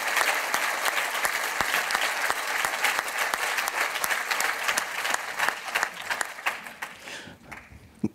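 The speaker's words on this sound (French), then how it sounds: "On peut applaudir Michel." A live audience applauds Michel, a man walking again with the help of an implant, in dense, sustained clapping that holds steady, then thins out into a few last claps.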